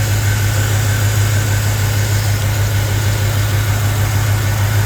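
The LS-swapped engine in a Squarebody Chevrolet C10 pickup idles close by with a steady, deep, even rumble and no speech.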